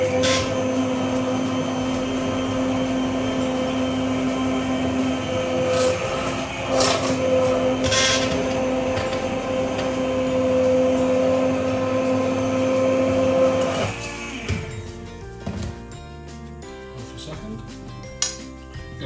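A jug blender runs with a steady, loud motor whir, purees sweet potato, squash and coconut soup, then winds down into rattling, clinking kitchen noise near the end.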